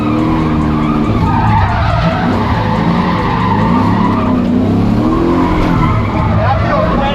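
A BMW E36 does a burnout, tires screeching in a loud sustained squeal over a revving engine at close range, with wavering pitch as the wheels spin.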